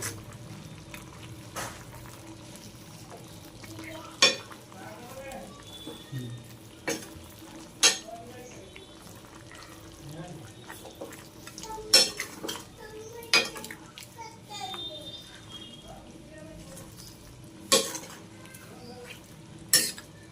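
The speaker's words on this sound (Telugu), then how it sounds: "కారం ఇదంతా ఒకసారి కలుపుకోవాలండి" Spoon stirring chili powder through chicken curry in a pot, with intermittent sharp scrapes and clinks of metal against the pan over a low background simmer, fairly quiet and with no voices.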